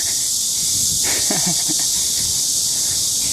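Cicadas in trees make a loud, constant shrill drone that hangs over the scene, with a few faint scattered knocks and rustles underneath.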